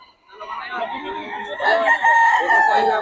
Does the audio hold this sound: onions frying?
no